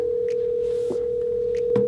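Phone call tones play through a loud, rugged Bluetooth speaker: a steady electronic dial tone runs continuously, broken by a few short dialing beeps.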